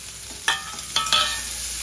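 Chopped onion dropped into hot oil with cumin and mustard seeds, giving sharp sizzling bursts as pieces hit the pan and a crackling hiss that lingers between them, close and fairly loud.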